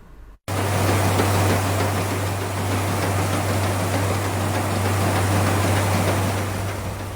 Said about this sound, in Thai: นี่คือเสียงเครื่องจักรสีข้าวกำลังทำงาน